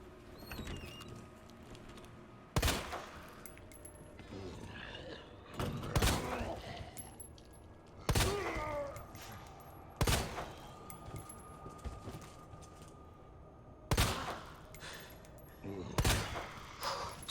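Gunfire in the Resident Evil 2 Remake, a handgun firing a series of sharp separate shots every two seconds or so, punchy and close, with faint game ambience between them.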